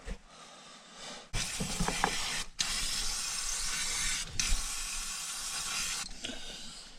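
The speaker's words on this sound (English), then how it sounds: "I'm just gonna have to spray all this down as well" Water sprays in long, loud hissing bursts onto the underside of a Fiat Ducato van, three sustained blasts broken by brief pauses, close and harsh with no talking.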